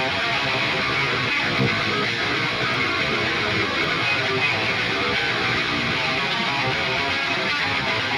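Djent electric guitar run through an octave-up pitch shifter blended with the dry signal plus a chaos pedal, giving a dense, loud, continuous wall of distorted tone with no talking.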